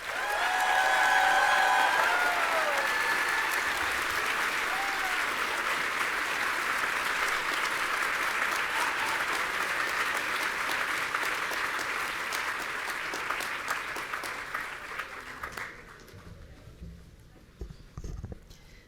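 Applause and cheering from the audience at a neuroscience bachelor's graduation ceremony, loud sustained clapping with whistles and shouts early on, slowly thinning and trailing off into scattered claps near the end.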